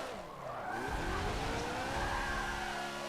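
A car in the Forza racing game drifts through a corner with the e-brake pulled, its tires squealing in a long, continuous, wavering screech over steady engine drone, fairly quiet and with no talk.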